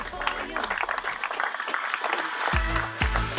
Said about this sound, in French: Monsieur Ozon, Monsieur Fugaro, Marco, notre carrossier préféré, on peut l'applaudir aussi.